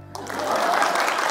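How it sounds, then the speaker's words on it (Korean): Audience applause at a parenting talk concert in Gwangju, rising after a brief pause into steady broadband clapping that holds for about a second, fairly close and with no talk. "박수 안 쳐요?"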